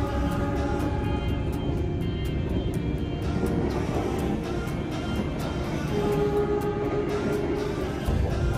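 Inside a moving panoramic passenger train, a constant loud low rumble of wheels and carriage with steady rhythmic clicks from the track, no talk.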